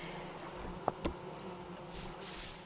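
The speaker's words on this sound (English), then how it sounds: "Oh, there's bees here." Bees buzz around wild hives in a survival video game, a steady insect drone at moderate distance with a couple of short clicks standing out.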